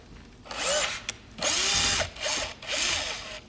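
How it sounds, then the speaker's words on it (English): A cordless power drill whirs in four short bursts removing screws while replacing a passenger window on a Lexus GS 450h, revving up and winding down between pauses, close and loud. "I'm going to take my handy dandy power drill here"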